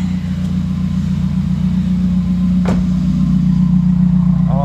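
A 2017 Subaru with a Grimmspeed catted J-pipe and Carven cat-back exhaust idles on a cold start, a loud, steady, deep drone with an even pulse, close by, with a brief knock partway through.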